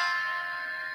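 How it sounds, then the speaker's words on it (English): A single guitar barre chord at the eighth position rings out, left to sustain and slowly decay; it is quiet, close and has no talking over it. "And you switch it to a basic bar chord"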